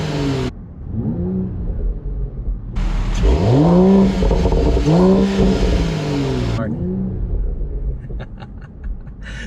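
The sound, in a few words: Mercedes-AMG E53 3-liter turbocharged inline-6 engine exhaust revving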